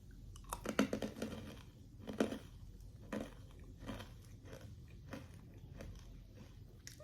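Someone bites into freeze-dried Skittles candy, making a series of soft, close crunching and chewing sounds in quiet surroundings.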